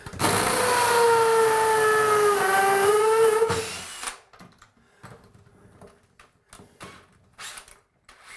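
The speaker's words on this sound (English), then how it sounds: "Let's try this drill." A power drill whines loudly for about four seconds, its pitch sagging slightly under load, then stops, leaving scattered clicks and handling noises.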